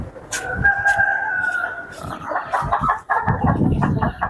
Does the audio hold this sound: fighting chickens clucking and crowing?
yes